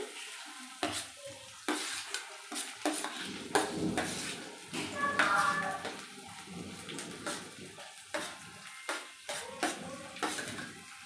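Onions and green chilies tossed into a pan for egg fry and stirred, with a run of scraping, clattering utensil strokes and light sizzling close by, no talking.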